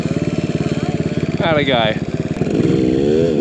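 Kawasaki KLX170RF dirt bike engine pulling steady in second gear through snow, a pulsing nearby drone that rises in pitch briefly, with a voice speaking over it.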